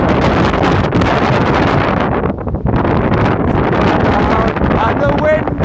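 Strong wind buffets the microphone beside a reservoir in the Brecon Beacons, a loud, continuous roaring rumble with gusty swells throughout.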